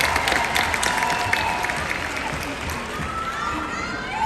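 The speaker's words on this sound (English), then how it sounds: "a big round of applause for Mustafa Afridi" Crowd at an awards ceremony applauds a playwright, sustained clapping at moderate level with some voices and cheers mixed in, gradually softening.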